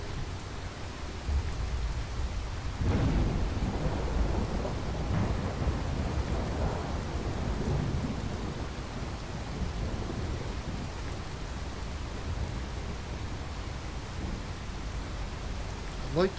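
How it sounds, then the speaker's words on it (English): Heavy thunderstorm with steady rain in the video game Fallout 4, a constant wash of rainfall with low rolling thunder rumbles swelling in the first half, continuous and fairly loud. "The storm got really bad"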